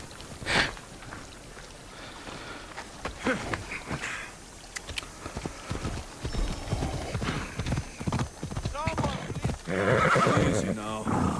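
A horse clip-clops and neighs in Assassin's Creed Origins, with hooves thudding in bursts near and a whinny rising toward the end, mixed with game ambience and a voice talking over it.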